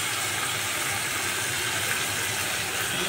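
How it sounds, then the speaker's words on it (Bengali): Water pours steadily into a cooking pot of spiced vegetables for a thin rohu fish curry, a continuous even hiss with no breaks or voices. "এখানে এটা নেড়ে ছেড়ে হালকা একটু জল দিতে হবে।"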